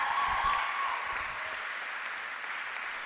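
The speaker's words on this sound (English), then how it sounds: "How about another round of applause for all of these amazing students?" Audience applause for students at a fine arts awards night, a burst of dense clapping that begins full and gradually softens, fairly close and steady, with a faint murmur at the start.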